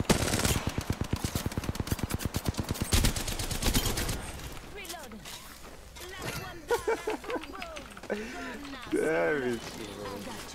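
Rapid, evenly spaced automatic gunfire in Apex Legends rattles loudly for about four seconds, then stops as excited voices take over.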